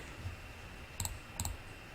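Three sharp mouse clicks while stepping through a software setup wizard for a GNS3 network lab, one near the start and two close together about a second later, each short and crisp against a quiet background hum.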